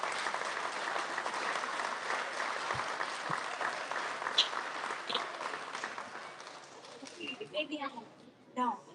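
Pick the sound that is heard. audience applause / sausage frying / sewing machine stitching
audience applause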